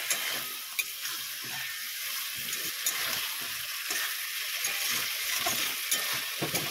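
Rohu fish curry masala with raw banana and green chilli sautés in a pan on a high gas flame, a steady loud sizzle broken by repeated scraping stirs, close up.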